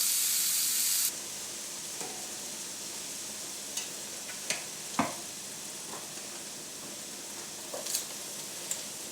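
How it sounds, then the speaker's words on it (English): Ingredients frying in oil for a pasta dish hiss softly in a pan while being stirred, with a brief louder sizzle at the start and scattered sharp clicks and scrapes of the utensil against the pan. "we are going to add a little bit more oil and we have to fry off other bits and pieces. So, keep moving that around."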